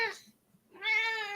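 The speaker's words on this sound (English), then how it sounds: "That's my cat, Rainy." A pet cat meows twice close by indoors, a short cry followed after a brief pause by a longer, clear, drawn-out meow.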